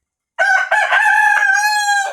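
A fighting rooster kept by breeders on La Réunion crows once, a loud, close, drawn-out call that begins abruptly after a brief silence and holds steady to the end.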